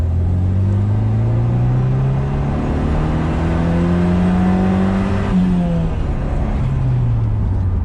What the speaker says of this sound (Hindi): थोड़ा सा रेव करते हैं हम।